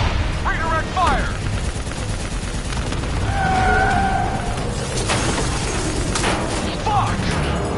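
Gunfire in the Black Ops 3 video game during a firefight with an APC and VTOL, with bursts of shots and shattering crashes over a dense, loud din of battle noise, with voices calling out in places.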